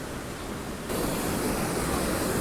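A forceful waterfall in the Kundalika Valley at Tamhini Ghat, Maharashtra, gives a steady, dense rush of water. It jumps abruptly louder partway through and then holds as a constant full roar, with no voices.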